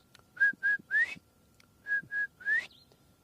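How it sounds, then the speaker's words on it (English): A bird calls alone in quiet surroundings: two sets of three clear whistled notes, the last of each set rising, repeated after a short pause. "the white-browed scrub robins are calling repetitively out here"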